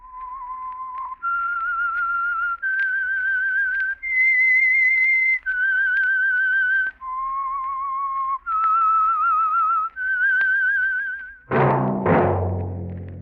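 The signal tune for The Whistler radio mystery program is whistled solo as a slow melody of long, clear sustained notes, one after another, before an orchestral chord enters at the end.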